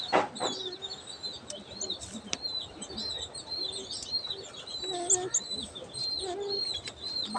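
Soft cooing and faint chirps from newly hatched doves, close by, scattered over a quiet background hiss.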